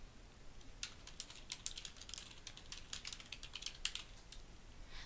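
Computer keyboard being typed on, with irregular runs of quick light key taps over a faint background hiss and no voice.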